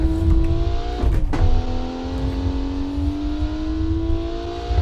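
Budget 2000s performance car revving in BeamNG.drive, a loud steady engine drone with a brief shift blip and rising pitch, heard close and alone.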